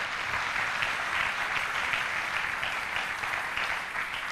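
A church congregation at a French-language worship service applauds together, a steady dense wash of clapping that holds for several seconds without talk.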